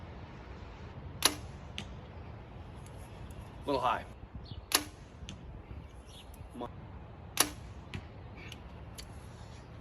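Arrows shot from a bow at a deer target at 38.5 yards outdoors, several sharp thwacks spaced a few seconds apart, with a brief spoken comment between them and faint birdsong in the quiet background.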